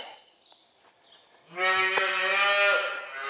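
On a small farm where cows are milked to feed calves, a cow lets out one loud, drawn-out moo after a few quieter shuffles and faint calls nearby.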